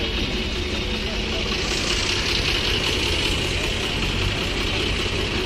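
Tractor engine idling at a tractor market in Talwandi Sabo, a steady low diesel rumble running throughout under people talking nearby.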